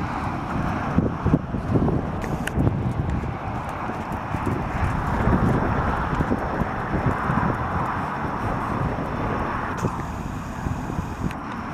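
A horse's hooves thud in a rhythmic clip-clop across a riding ring built on a hill during flat work, moderately near, with faint wind noise in the background.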